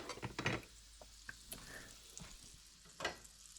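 Ham cooking in a cast iron skillet gives a quiet, steady sizzle broken by a few soft scraping and stirring knocks, fairly faint with no one talking.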